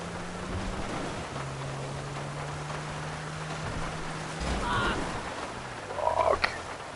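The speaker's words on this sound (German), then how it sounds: "Der Regen ist so laut, ne?" Rain in the video game GTA 5 makes a loud, steady hiss that fills the whole scene, with low engine-like hums and a few short game noises toward the end.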